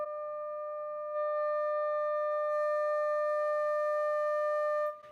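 A steady sine-wave tone from a frequency generator plays through a Heathkit T4 tube amp converted for guitar, holding a single pitch with faint harmonics that grow richer partway through before cutting off abruptly near the end.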